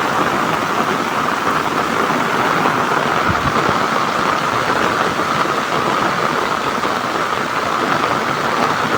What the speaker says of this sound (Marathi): मोठाच पाऊस आला